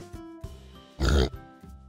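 A single short cartoon pig oink, loud and close, rising out of quiet background sounds.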